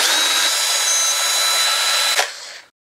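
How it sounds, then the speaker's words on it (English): A brushed cordless drill runs at a steady high whine for a couple of seconds, then abruptly stops, loud and close with no talk. "I have a cordless drill, which is brushed, so that should cause more noise."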